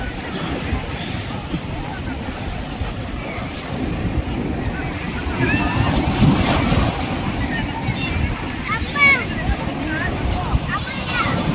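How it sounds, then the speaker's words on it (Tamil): Big sea waves break on Kovalam beach beside a fish market, a steady roaring wash of surf that swells louder midway, with wind across the microphone and faint voices in the background. "காலையிலேயே வர அலை நல்லா பெரிய பெரிய அலையாக இருக்குது"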